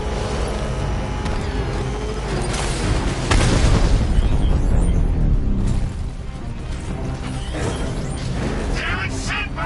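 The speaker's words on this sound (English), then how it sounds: "Rocket launch!" A rocket launches and explodes in Batman: Arkham Knight with a sustained roaring blast, dense booming rumble, and heavy mechanical noise beneath, loud and continuous throughout, with the sound swelling midway before easing off.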